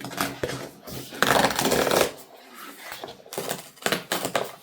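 Paper sticker sheet being torn out of a Myths and Magic colour-by-numbers sticker book, a close crackly ripping in several bursts with a louder stretch in the middle, alone without talk.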